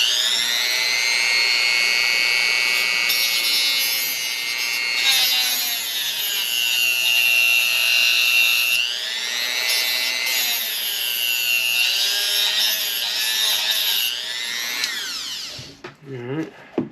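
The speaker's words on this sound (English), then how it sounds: "I might have to cut the top off of that bolt and just cut my diff out of this old mount." A high-pitched rotary tool whines steadily as it cuts through the top of a bolt on an M2C motor mount for an RC Fireteam 6S, its pitch dipping and rising under load for about fifteen seconds before spinning down.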